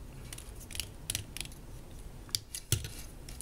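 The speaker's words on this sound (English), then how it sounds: "The elbow's a plastic ratchet." A plastic ratchet elbow joint on a Transformers Combiner Wars Deluxe Firefly toy clicks through several sharp, close ticks at uneven intervals, faint and unaccompanied by talk.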